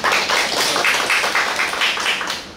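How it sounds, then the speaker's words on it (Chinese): A lecture audience gives a dense, steady round of clapping to welcome the speaker at a talk on folk Buddhism. It fills the room at even loudness for a few seconds, then tapers slightly at the end. "我们热烈掌声欢迎他。"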